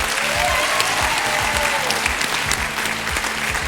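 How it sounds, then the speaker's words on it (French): Studio audience applause fills a radio show set, dense and steady throughout with a faint cheer or whistle rising briefly early on and low music underneath. "Il a toujours la forme et vous aussi, on l'applaudit."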